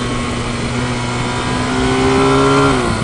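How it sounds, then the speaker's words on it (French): Honda VFR1200 V4 motorcycle engine accelerating hard, a loud steady engine roar whose tone climbs in pitch as revs build, close and continuous with no talking. "Et puis définitivement ce V4, ça accélère fort."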